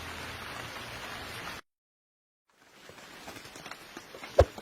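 Rain falls in a steady hiss of patter, cuts out abruptly for about a second, then returns softer with scattered drips and a sharp knock near the end.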